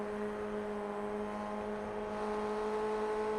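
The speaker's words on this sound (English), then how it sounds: "we'll be a little bit quiet so you can hear the engine note. He's at full throttle" A race car engine howls steadily at full throttle while climbing a hill at Phillip Island circuit, a sustained strong drone with no break or let-off across the few seconds.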